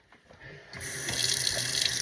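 Hot water from a kitchen tap, a quiet, faint trickle at first that swells into a steady, hissing gush as the flow opens up, continuing without pause.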